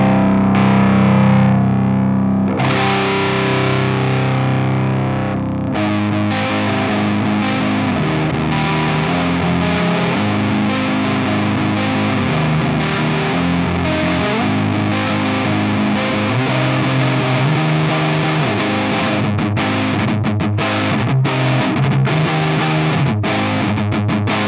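An electric guitar runs through a GUP Tech T-Bag pedal on its bright channel into a power amp and cabinet. It plays loud, saturated, sustained doom-style chords and riffs, continuous and alone with no speech.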